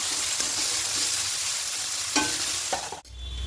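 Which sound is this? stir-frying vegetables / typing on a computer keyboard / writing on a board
stir-frying vegetables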